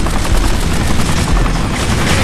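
Dense, loud rapid gunfire in the video game Kane & Lynch: Dead Men, shooting at a police helicopter in continuous overlapping bursts with heavy low rumble.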